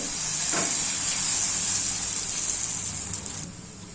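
Dosa batter poured onto a hot oiled pan gives off a loud, close, continuous sizzling hiss that holds steady for several seconds, then eases slightly at the end, with no voices.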